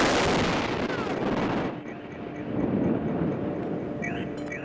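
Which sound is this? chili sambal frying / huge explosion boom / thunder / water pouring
huge explosion boom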